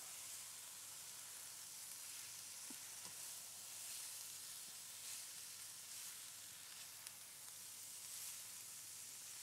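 Bok choy sizzles steadily in a hot pan while being stirred, a soft continuous hiss with faint scrapes, heard alone and fairly quiet.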